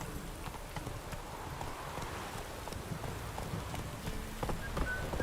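Hooves clip-clop steadily as a horse gallops in The Witcher 3, a rapid, even rhythm carrying through the whole stretch at moderate level over a soft, noisy ambient bed.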